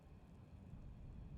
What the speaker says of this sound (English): It's raining now, you can hear it outside.